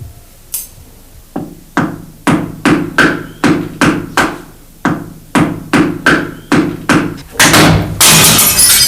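Repeated hammer blows drive a nail into a weak, crumbling brick wall, about a dozen loud sharp knocks in a steady rhythm, ending in a rough crunching burst as a brick breaks loose.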